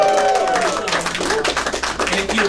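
Audience at a musical comedy showcase clapping for a guitarist, a burst of applause that thins out as a voice talks over it.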